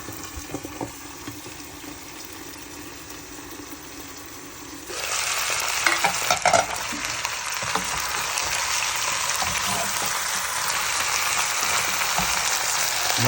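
A whole chicken cooks in a pot with Sprite, giving a steady broadband sizzle. It turns noticeably louder and denser partway through and then holds as a continuous frying hiss with no voices.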